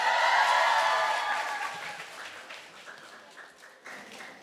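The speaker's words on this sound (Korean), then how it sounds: "다시 한번 박수 주세요." Audience applause from a live music episode of I'm LIVE fades from a dense, loud clapping wash into thinner, scattered claps over a few seconds.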